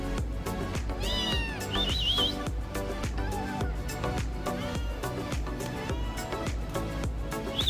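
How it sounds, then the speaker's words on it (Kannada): Several cats and kittens meow repeatedly while eating a mash of rice, curd and milk, with high-pitched cries rising over a steady layer of music. "ನಾನು ಹೋದ ತಕ್ಷಣ ಎಲ್ಲವೂ ಮೇವು ಮೇವು ಅಂತ ಬರ್ತವೆ"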